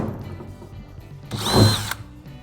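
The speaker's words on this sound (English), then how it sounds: "So what I'm gonna do is start with a drill hole" A power drill bores a hole to mount gear tracks on a jon boat, a single loud whirring burst of about half a second that stands out after quieter handling noise.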